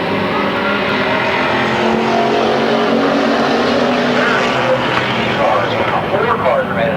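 Race cars roar around Midvale Speedway in a continuous loud engine din, several motors blending at close range, with an announcer talking over the noise.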